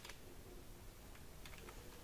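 Quick, light clicks of a computer keyboard as a web address is typed, a steady run of soft keystrokes close to the microphone with no talking.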